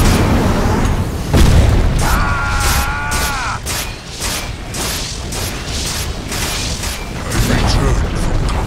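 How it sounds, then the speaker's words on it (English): A tower collapses in Dota 2 with a loud booming crash and rumbling debris, layered over busy game effects and an announcer-style voice. "Dire's middle tower has fallen."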